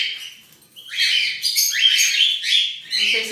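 A rosy-morph Bourke's parakeet chirps close by in a quick series of bright, rising and falling tweets, alone and fairly loud.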